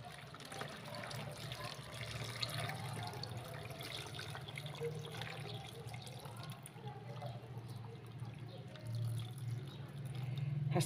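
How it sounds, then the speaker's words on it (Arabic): Tap water poured steadily into a jar packed with lemons being prepared for pickling, a continuous close trickle and splash with a low hum underneath that grows slightly fuller toward the end as the jar fills. "هحطها في برطمان الليمون، وهنزل عليها بالميه."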